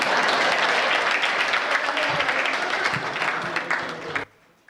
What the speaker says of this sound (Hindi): आप अगर चाहें तो अपने सम्मान में ताली बजा सकते हैं।